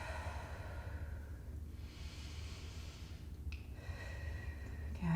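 A person breathing slowly during a gentle wall stretch, with soft audible inhales and exhales, quiet and close, without talk.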